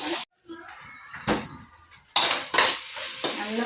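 Food fries and sizzles in a pan in a home kitchen while a spoon stirs it in short scraping bursts, with someone talking over the cooking.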